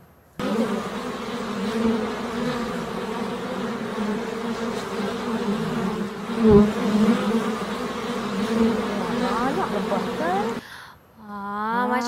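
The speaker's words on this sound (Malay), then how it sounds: "kalau bunyi lebah bunyi macam ni" Steady, close buzzing of a bee droning continuously for several seconds, with a brief pause and shift near the end.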